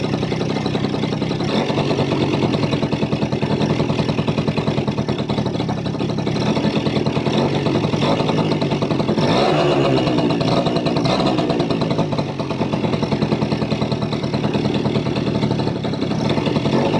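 A Yamaha V80 Deluxe motorcycle engine runs close by at a steady idle, a continuous, even mechanical drone with no talk over it.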